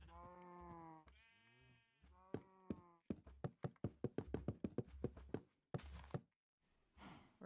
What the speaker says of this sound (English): Excuse me, sheep. In my way.